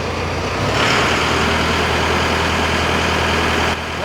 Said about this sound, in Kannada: ನಾರ್ಮಲ್ ಮೋಡ್ನಲ್ಲಿ ಯಾವ ರೀತಿ ಇಂಜಿನ್ ಸೌಂಡ್ ಬರ್ತಾ ಇದೆ ಅದನ್ನು ಅಬ್ಸರ್ವ್ ಮಾಡಿ